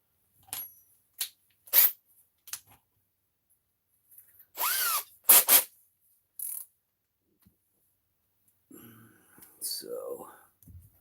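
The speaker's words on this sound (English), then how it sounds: "Drill it out right here" A power drill bores a hole in RC parts in short, separate bursts of whirring, some quick and some longer, with a voice briefly talking between them.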